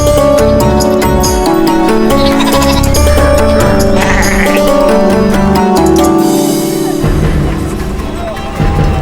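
Livestock such as sheep or goats bleat at a busy cattle market fair, the calls layered densely and loudly over a constant, crowded din.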